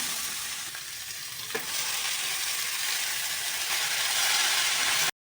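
Potato, cauliflower and ginger frying in a pan give a steady, close hissing sizzle, with one soft clack of stirring early on, until the sound cuts off abruptly.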